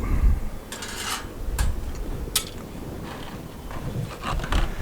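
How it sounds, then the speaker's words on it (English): Light scoops of wood pellets tipped into the back of a Big Horn pellet-burning pizza oven, giving a few scattered rattling, clattering bursts of small hard pellets against metal amid low background rumble. "I'm gonna go ahead and add 2 more scoops of pellets into the back"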